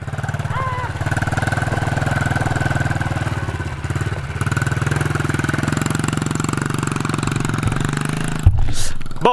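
A motocross bike engine runs with a steady, buzzing mid-pitched drone that holds fairly constant and loud, dips briefly, then surges with a short burst of throttle near the end.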